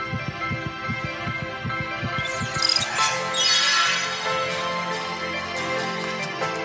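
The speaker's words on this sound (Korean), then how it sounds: "심장 박동이 빨라지게 됩니다" A heartbeat sound effect of quick, steady low thumps, roughly nine beats in a little over two seconds, then giving way to a bright rising whoosh with a lingering tonal wash.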